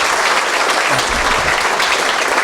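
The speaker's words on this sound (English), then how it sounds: "let's give our board a hand for their help on that" A school district audience gives the school board a round of applause, dense steady clapping close by and fairly loud, carrying on without a break through the whole moment.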